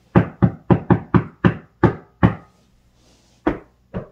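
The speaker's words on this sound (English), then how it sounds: "Smartphone mic only, knocking on wall." Knuckles rap on a wall, captured with only a smartphone's built-in microphone: seven sharp knocks in a quick, uneven run, then a pause and two more, loud and close with no talking.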